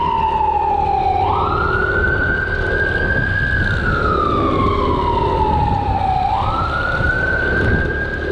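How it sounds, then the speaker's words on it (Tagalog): A loud ambulance siren wails continuously, sweeping slowly up and down in pitch over steady traffic rumble, with no voices. "ambulansya pala"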